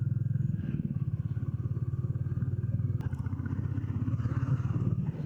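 A motorcycle engine thrums steadily at a low, even pulse while the bike rides an off-road track, close and continuous with faint rattles.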